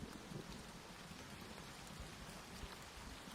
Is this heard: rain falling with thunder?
yes